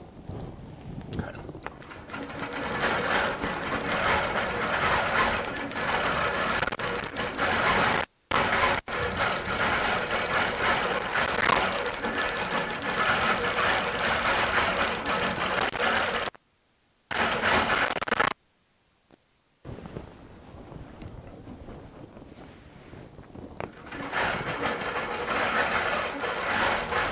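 A Baby Lock Regent sit-down long arm quilting machine stitches in a fast, steady mechanical whir, pausing briefly a few times before resuming.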